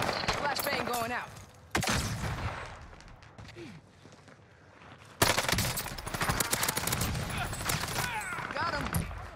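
A sharp flashbang bang and loud bursts of rapid gunfire ring out in an Arma-style military shooter, cutting off and then resuming abruptly, with voices talking between the shots.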